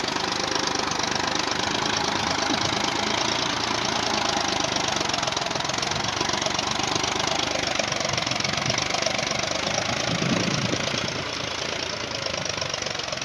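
A 40 hp Solis tractor engine labours steadily while pulling a heavy MB plough through a field, a loud continuous rumbling drone with no break and no voices.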